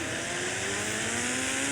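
Motorbike engine in an Indian bike video game, a steady synthetic drone that rises slowly in pitch as it revs, loud and continuous, with no voices over it.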